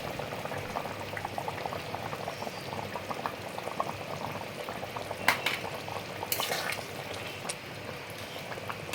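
A spicy fish curry with taro pieces simmers and bubbles steadily as ground black pepper paste goes in, with a brief pouring and spoon clatter partway through and no voices.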